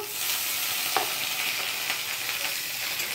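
Ridge gourd going into hot oil with boiled potatoes, cumin, bay leaf and dried chillies gives a steady close sizzle with soft stirring scrapes throughout and no voices.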